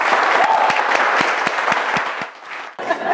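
Studio audience at a Ghanaian TV quiz show, What Don't You Know?, breaks into a loud round of clapping, dense and steady at first, then thinning out into scattered claps toward the end.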